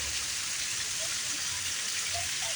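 Steady heavy rain rushes down during a thunderstorm in an even, hissing wash, close and unbroken, with a faint low rumble underneath.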